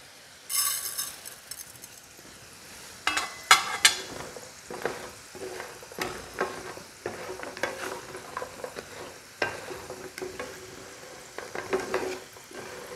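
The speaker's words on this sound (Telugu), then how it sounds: "నేను వేయించిన నువ్వులు యాడ్ చేస్తున్నాను" Roasted sesame seeds tip into a sizzling pan and get stirred, with repeated scraping and clinking strokes of a utensil over a continuous fry, close up and without speech.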